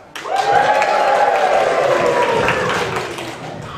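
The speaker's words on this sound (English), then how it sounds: "And the crowd went wild." A fairground crowd breaks into applause and cheering for a disco dancing contest, a dense, loud roar of clapping and voices that swells quickly and holds for several seconds, with a whistling tone gliding across it.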